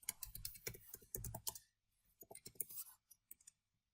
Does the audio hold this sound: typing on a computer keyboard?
yes